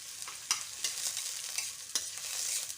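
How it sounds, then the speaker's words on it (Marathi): Green chillies, grated ginger and curry leaves sizzling in hot oil in a pan, a soft crackle broken by sharp scrapes and clicks as they are stirred, close and fairly quiet, with no talking. "आता आपण फ्राय करून घेऊया हे सर्व"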